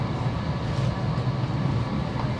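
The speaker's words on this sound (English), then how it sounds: "The SkyTrain's gonna fill up with a few more people." Vancouver SkyTrain at Granville Station, an elevated light-metro platform downtown, with a steady, fairly loud low rumble and hum of the train running close by and no voices over it.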